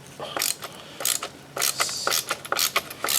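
Screws being backed out of the cover of an Echo weed eater with a T25 driver: repeated close, rapid ratcheting clicks in several short bursts with brief pauses between them. No one speaks.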